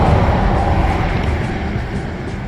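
Steady, loud traffic rumble from vehicles crossing a bridge over the South Fork River, a branch of the Catawba River, forming a continuous broadband wash with no distinct passes and no voices.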